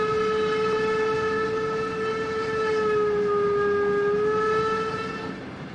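A steam locomotive whistle in the Trainz 22 train simulator on the Brocken railway sounds one long, steady, loud multi-tone blast lasting several seconds before tapering off, with no talk over it.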